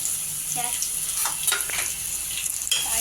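Chopped onion hisses and crackles as it fries in a pan for masale bhat. The sizzle is close and steady, with a few louder pops and faint stirring noises, and no voices are heard.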